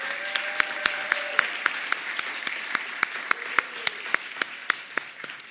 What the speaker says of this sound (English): Let's have a round of applause for all of our alumni difference makers.